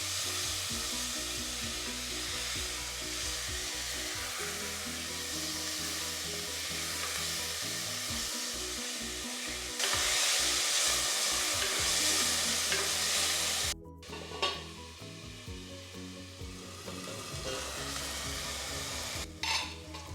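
Chopped tomatoes fry in oil inside a pressure cooker, a continuous close sizzle with clinks and stirring, then a sudden louder hiss before quieting as the lid goes on.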